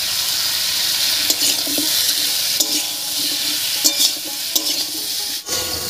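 Slit green chillies drop into frying raw papaya tempered with salt and turmeric, giving a steady close sizzle with scattered pops and clicks throughout, alone without talk.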